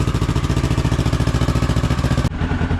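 A motorcycle engine, fitted with a brand new exhaust, idles while warming up with a fast, steady chugging pulse, loud and close, then briefly cuts and shifts tone near the end.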